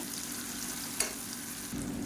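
A steady, soft sizzle of chutney ingredients sautéing in hot oil, with a brief scrape of stirring partway through and a slight rise in sizzle near the end.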